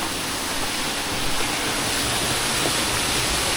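Rushing water of Kozjak waterfall in Slovenia, a steady, dense broadband roar heard from close by, constant and alone.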